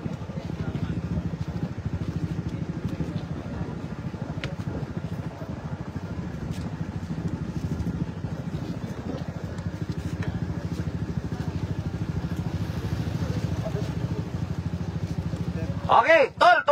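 A motorcycle engine idles with a steady, moderately close low putter, while people talk over it and a clatter sounds near the end.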